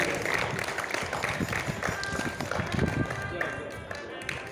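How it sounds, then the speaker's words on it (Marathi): Sustained applause from an audience at a children's theatre training camp closing ceremony, honouring a birthday, as a dense, steady wash of clapping that carries on without pause. "जोरदार टाळ्या होऊ द्या"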